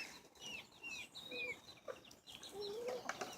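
A barnyard-mix rooster clucks and chirps in a short run of calls, close by, with other farm birds faintly around it.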